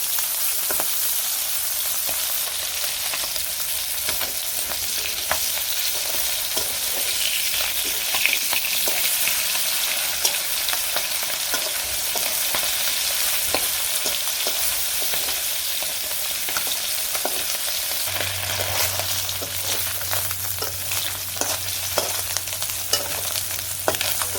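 Fish frying in a pan over a village cooking fire, a steady broadband sizzle with crackling pops running throughout, close and even, with occasional stirring scrapes and a low hum entering near the end.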